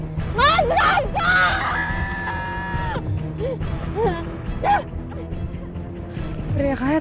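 A woman in a drama scene lets out several loud, strained screams in the first three seconds, followed by shorter cries and gasps, with a voice and background noise.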